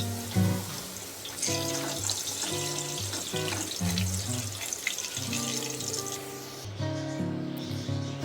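Spinach-stuffed kachori dough is slid into hot oil and fries with a steady, close bubbling sizzle that runs throughout, alongside faint kitchen clatter.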